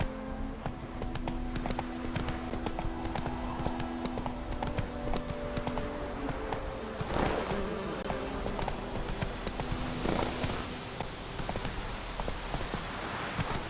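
Steady clip-clop of Roach's hooves, the horse in The Witcher 3 video game, trotting close for the whole stretch under a low ambient hum, with a snort or brief whinny partway through.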